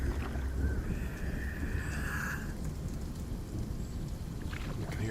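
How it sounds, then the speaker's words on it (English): Thunder rolls in the Hellblade: Senua's Sacrifice video game, a low, continuous rumble beneath steady rain-like hiss, with a brief brighter tonal sweep early on. "That was pretty awesome, that thunder there"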